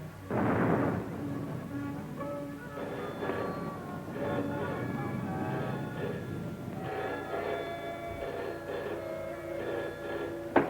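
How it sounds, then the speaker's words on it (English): Distant guns in a 1936 film, with a muffled boom followed by rolling, rumbling reports that carry on faintly in the background over several seconds, with no speech. "Listen, guns again."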